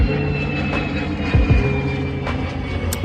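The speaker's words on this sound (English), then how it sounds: "That's the airplane" An airplane passes overhead somewhere away from any airport, a steady broad engine drone that holds at a constant level for the whole stretch, with a few faint low thumps underneath.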